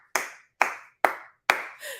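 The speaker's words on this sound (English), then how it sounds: "Everybody clap." Four sharp bursts of group clapping from a church congregation, evenly spaced about half a second apart, each hit ringing out and decaying, loud and near with no talk over them.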